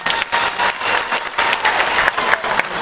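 A crowd applauds loudly for Raila Odinga at a public gathering, dense sustained clapping with some cheering blended in, fairly close and continuous.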